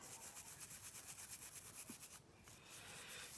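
A brush scrubs a 1/32 Mk. XIVc model aircraft part clean with isopropyl alcohol, making a quiet, fast rhythmic rubbing of steady back-and-forth strokes, faint and close, with a brief pause near the end.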